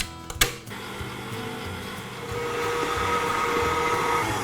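Electric mixer beating sifted icing sugar into stiff frosting, a steady whirring motor drone that rises slightly and holds after a brief clatter at the start, close and continuous with no talking.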